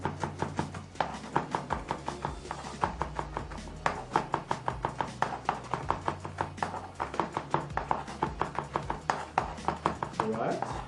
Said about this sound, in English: I'm chopping it now.